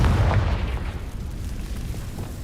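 A Confringo explosive spell blast in Hogwarts Legacy, a single heavy booming detonation that hits loud and close at the start, then rolls out into a rumbling decay, with no voices.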